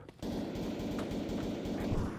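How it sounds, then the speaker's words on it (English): Gunfire in the video game Escape From Tarkov during a Factory loot run, a continuous rattle of rapid shots with heavy low rumble, fairly distant and steady for about two seconds. "there's a lot of gunfire behind me"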